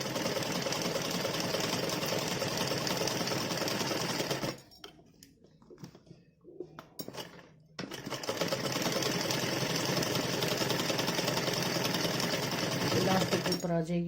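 A sewing machine stitches over elastic on a baby's Holi dress, whirring in a long close run, pausing briefly amid small handling noises, then running steadily again.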